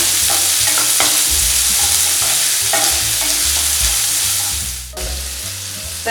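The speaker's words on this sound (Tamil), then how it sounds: "உங்களுக்கு வெங்காயம் ரொம்ப வதங்க வேணாம்." Onions sauté in a pan with a loud, steady sizzle, overlaid by repeated scraping and stirring strokes close by, with a short dip in the hiss near the end.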